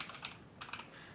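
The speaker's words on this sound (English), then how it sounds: "and I can type in" Quick keystrokes on a computer keyboard while working in Unreal Engine 4, a short run of close, light clicks in small bursts with no voice over them.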